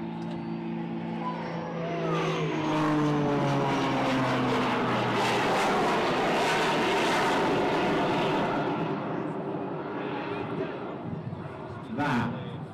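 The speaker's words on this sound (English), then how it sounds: "Watch those turbines come back online." Aerobatic aircraft at an airshow in Ayr, Scotland, a fast-climbing machine flying snap rolls: a loud, sustained engine roar with shifting, sweeping pitch that fills the clip, joined by a commentator's voice over the loudspeakers.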